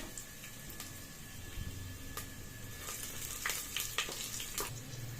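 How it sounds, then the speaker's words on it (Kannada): Whole spices such as cinnamon, cloves, fennel, cardamom, kasuri methi and star anise crackle and sizzle in hot oil for a white mutton pulao, a close steady fry dotted with sharp pops and spoon clicks. "ಎರಡು ನಿಮಿಷ ಫ್ರೈ ಮಾಡ್ಕೊಳ್ಳಿ"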